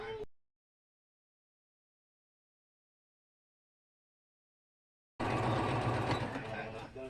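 A sewing machine stitches around a pinned bubble quilt, a loud, close, steady mechanical whir that starts abruptly after a long silence, with a short burst at the very start.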